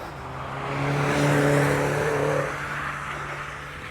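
Early cars on the Doune hillclimb sweep past one at a time, a rising then fading engine note with revving as the car nears and draws away, loud at its peak and alone without voices.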